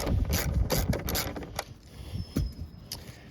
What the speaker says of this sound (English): So we're gonna go ahead and loosen these up.